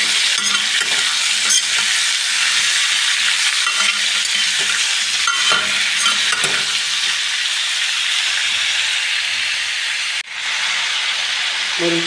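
Radish frying in a pan, a loud, dense, hissing sizzle that runs throughout, with occasional stirring knocks and a brief dip near the end.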